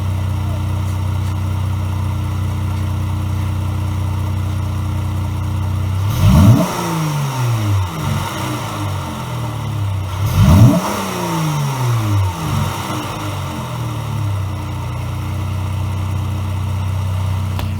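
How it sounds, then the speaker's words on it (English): A 2019 Chrysler 300 AWD Sport with a performance exhaust and an added air intake mod idles steadily, then revs sharply twice, each surge rising and falling back to a deep burbling idle, close and loud. "you'll hear the sound it makes because I made additional air intake mod."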